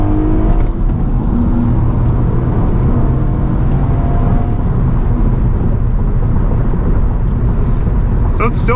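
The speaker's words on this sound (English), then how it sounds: "So it still gets up and goes pretty nicely." A 2007 Honda Accord V6 with manual transmission hums and pulls steadily under acceleration while merging, loud and close, with road noise throughout and a faint talking voice.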